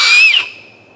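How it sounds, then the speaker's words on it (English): A shrill whistle comes from an acorn cap held between two fingers and blown, one loud piercing tone that wavers briefly then thins to a fading steady note, alone. "you can make a whistle"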